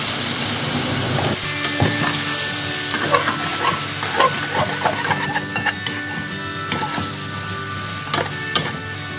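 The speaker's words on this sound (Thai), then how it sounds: "ตอนนี้เร่งไฟให้แรงขึ้นนิดนึงค่ะ แล้วนำบวบลงผัดให้สุกอย่างรวดเร็วค่ะ" Luffa gourd stir-fried in a pan over high heat, a steady sizzle with soft scraping and clinks of a utensil stirring the pieces, close and continuous without talk.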